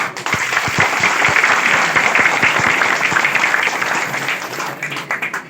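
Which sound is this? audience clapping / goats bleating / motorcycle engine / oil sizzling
audience clapping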